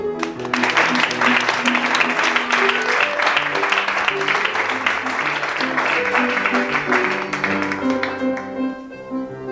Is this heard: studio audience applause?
yes